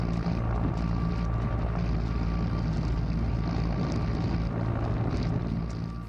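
A helicopter hovers over a hijacked ship at sea, its dense, steady roar of rotor and engine filling the air with wind buffeting. The sound is loud and unbroken throughout, with no voices.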